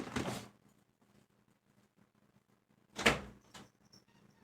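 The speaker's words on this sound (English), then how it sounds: "then I'm going to open the door, and then I'm going to close the door" A house door opens and shuts for the cats, two separate thumping knocks a few seconds apart with quiet in between, close and fairly soft.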